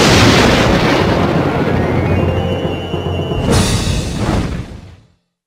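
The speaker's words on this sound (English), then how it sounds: "The two lions fought as a fire raged behind them." Two lions battle in a Lion King animated storybook game while a fire roars behind them: a loud, continuous rumbling, crackling blaze with heavy booming bursts, surging near the end before cutting off abruptly.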